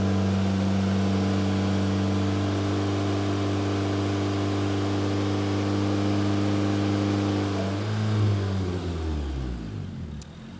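A K24-engined Honda Fit holds a steady 3,000 RPM on a dyno, a constant droning engine hum with strong harmonics that drops in pitch and winds down near the end; no speech.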